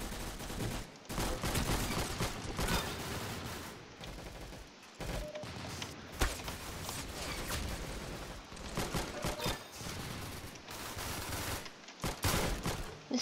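Rapid bursts of automatic gunfire in the Roblox Arsenal video game, dense near continuous volleys with short gaps, loud and close.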